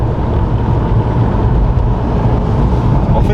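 A Ford Mondeo ST V6 pulls away smoothly under throttle, its steady, loud engine drone heard from inside the car with road and wind noise, no talk.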